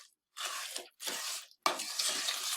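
Butter sizzling in a pan for almond toffee, heard as three close bursts of crackling hiss separated by short silences, with no talking.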